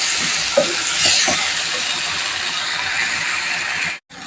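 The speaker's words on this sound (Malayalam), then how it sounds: "എന്നിട്ട് നന്നായിട്ട് നമുക്കിതൊന്ന് വഴറ്റിയെടുക്കാം." Food with salt sautéing in a pan, a steady close sizzle and hiss with a few soft stirring scrapes early on, ending in a brief cut to silence.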